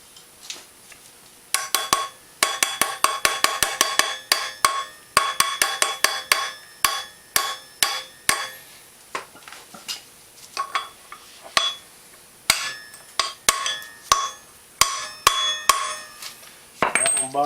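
Sharp metallic hammer taps driving a wheel bearing into the rear hub of a Suzuki RM125 motorcycle, close and loud, in quick bursts of rapid blows separated by brief pauses, with no speech.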